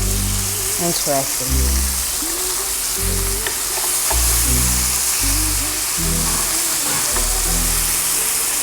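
Rack of grassfed lamb sizzles in a pan on a camp stove, a steady, close frying hiss that runs throughout while a person talks over it.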